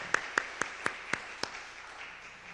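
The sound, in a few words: applause of encouragement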